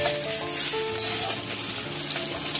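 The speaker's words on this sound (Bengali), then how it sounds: "ছোট মাছটা ভেজে নিচ্ছি" Steady, close sizzling and crackling of small fish frying in hot oil, with faint clinks of a utensil stirring the pan.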